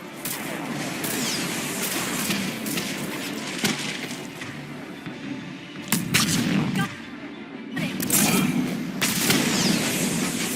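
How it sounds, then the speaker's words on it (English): Spaceship firing missiles in the video game Mass Effect 3 during a battle on Thessia, a string of heavy booming blasts and rumbling impacts layered with game noise, dense and fairly loud. "That's it for the missiles."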